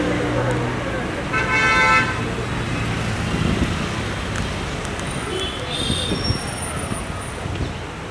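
A car pulls up on the road and gives a short, bright horn toot early on, heard over steady traffic rumble and a chatter of nearby voices.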